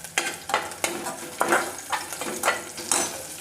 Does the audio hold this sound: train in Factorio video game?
no